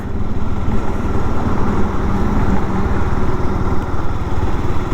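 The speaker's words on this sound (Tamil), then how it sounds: "என்ஜினில் நாக் ஆகிற மாதிரி சவுண்டே கேட்கல" A 2022 Honda CB300R motorcycle engine runs slowly in sixth gear through the city, a steady, loud, low drone with a close, even throb and no talk.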